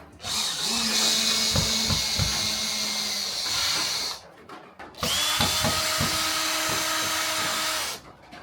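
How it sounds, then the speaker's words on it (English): A power drill bores into a wooden cabin door for a new handle, two sustained high whining runs of about four and three seconds separated by a brief pause, close and loud with no talk. "then we'll measure and drill the door for the new handle"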